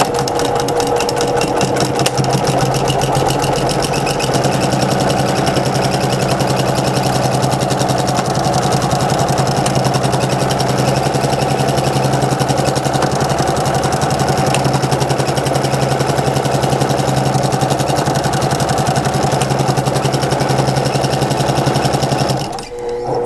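A sewing machine fitted with a walking foot runs loud and continuous for the whole stretch, a steady mechanical drone with rapid ticking, as it sews a baby blanket.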